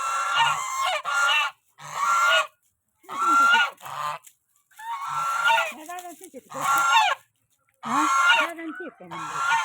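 Several geese kept on a farm honk loudly and nearby in repeated bursts of harsh calls, separated by short pauses, with a faint murmur of voices underneath.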